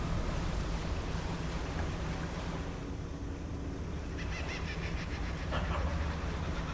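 A dog in the video game Dredge gives a few faint, brief barks over the steady wash of sea waves, wind and a puttering fishing boat engine.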